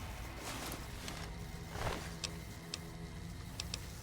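Sparse, sharp clicks of a Geiger counter in Fallout: New Vegas tick irregularly over a low background hum, a few isolated pops and a quick pair near the end.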